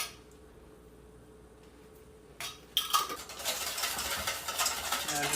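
Dry rub spices, salt, pepper and dill being mixed in a bowl, starting with quiet scraping and then turning into steady, busy stirring and clinking from about the midpoint.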